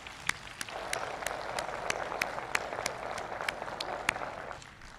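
A ceremony audience addressed by Pakistan's prime minister breaks into sustained, loud applause for overseas Pakistanis, a dense patter of many hands with sharper individual claps standing out, fading slightly at the end.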